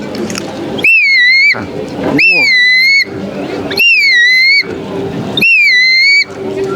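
Four separate whistled calls, each a rising then gently falling tone, pitched fairly low and spaced evenly, imitating a grey plover's call, with a soft hum of background noise between them, at a medieval fantasy festival in Toulouse.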